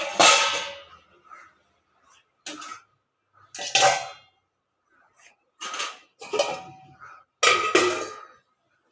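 Pots and a lid clatter in short, separate bursts in a home kitchen after a pepper chicken dish is cooked, with metal knocks and scrapes spaced across the moments.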